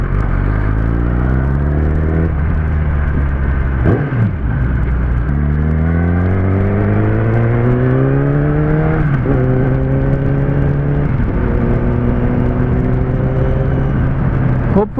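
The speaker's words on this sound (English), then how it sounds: "all we need to do is now hit the highway and smash through the gears" Kawasaki ZX10R motorcycle accelerates hard on a highway, its loud engine note climbing through each gear with brief dips at the shifts, heard close and alone.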